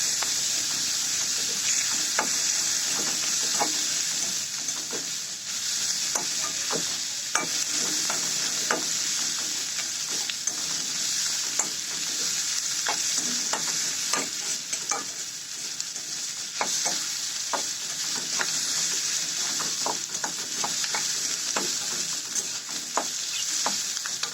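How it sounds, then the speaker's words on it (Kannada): Long-sliced onions fry steadily in a pan, a dense even sizzle running throughout with frequent clicks and scrapes of a spatula stirring them, close and fairly loud with no talk. "ಅದು ಸ್ವಲ್ಪ ಗೋಲ್ಡ್ ಕಲರ್ ಬರೋ ತನಕ ನಾವು ಫ್ರೈ ಮಾಡಬೇಕು."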